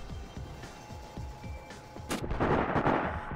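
Gunfire in the video game Sniper: Ghost Warrior comes as scattered booming shots, then a heavier burst of loud overlapping blasts toward the end.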